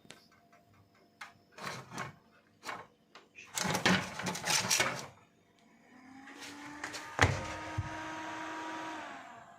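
A vintage 2003 desktop computer's fan whirs up to a steady hum and then winds down, preceded by clicks and rattles of handling the machine, close and moderately loud.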